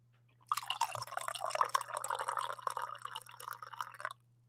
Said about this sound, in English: How would you grade that coffee pour?